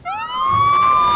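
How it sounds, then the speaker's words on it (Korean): A police car siren wails upward and holds a loud, close, piercing tone over a low rumble, lasting about a second. "이때 밖에서 요란한 경찰차 사이렌 소리가 들려오고"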